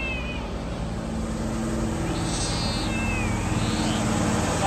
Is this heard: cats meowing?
yes